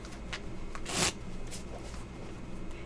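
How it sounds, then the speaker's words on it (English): Playing cards being dealt at a Pai Gow poker table, soft flicks and slides of cards with one louder snap, faint and close under a quiet room. "Now, let's deal out the cards."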